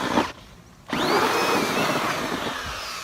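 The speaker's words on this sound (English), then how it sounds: "So now we're going to drill the discharge, which is a 2-inch hole. We're using a 2-inch hole saw." A power drill spins a 2-inch hole saw through an exterior foundation wall to make a discharge hole, a loud steady grinding whine that runs almost continuously after a short pause.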